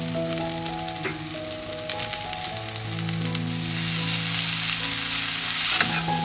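Chow mein vegetables and noodles sizzle steadily in a hot wok, a continuous close crackle with occasional stirring clatter, alone and without talk.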